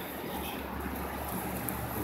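A small creek at a rest area along Highway 60 in Arizona flows steadily with a broad, even wash of water noise, with no talk.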